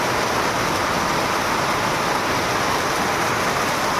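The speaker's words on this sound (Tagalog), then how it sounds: "Biglang lakas ng ulan" Sudden heavy rain pours down in a dense, unbroken hiss, loud and close throughout.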